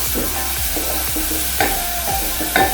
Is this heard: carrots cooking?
yes